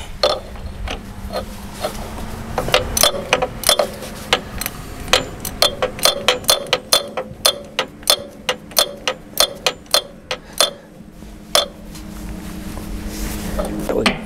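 A wrench turning a bolt on an old, broken bulldozer gives a long run of sharp, evenly spaced metallic clicks. They speed into a steady rhythm and then stop, close up, over a low background hum.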